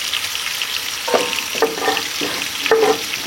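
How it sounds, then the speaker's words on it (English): Bacon sizzles and crackles steadily in a pan of hot bacon grease kept on the heat, with a dense hiss and occasional louder pops and scrapes as strips are lifted out. "I'm still leaving it on the heat to keep that bacon grease nice and hot"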